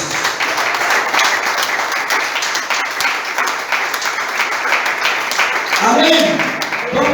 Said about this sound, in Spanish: Dale un fuerte aplauso a Dios.